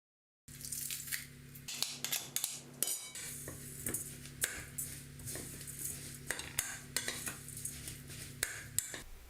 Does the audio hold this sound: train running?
no